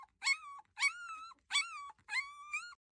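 A small injured dog whimpers in pain, four drawn-out, high whining cries each rising then sliding down, separated by short silences, close and clear with no other sound.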